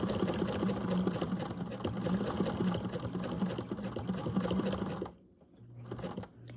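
A 1953 Singer Featherweight sewing machine fitted with a multibinder stitches bias binding onto an apron, a fast, even mechanical whir that runs steadily, then stops abruptly and briefly restarts.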